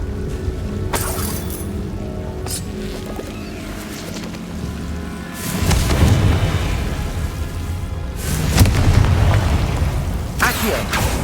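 Confringo fire spell blasts in the Hogwarts Legacy video game, two heavy booming bursts a few seconds apart over a steady rumbling game soundscape, the second swelling loud and close.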